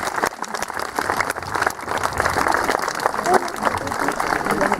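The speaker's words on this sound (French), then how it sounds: "Bon, on peut les applaudir, hein" Applause from a crowd watching a tiger show at the Pierrefonds medieval festival, steady dense clapping through the whole stretch with voices mixed in.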